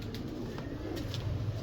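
A white-eyed breeding pigeon in a rooftop loft gives soft, low cooing close by over a constant background hum, with a few faint chirps.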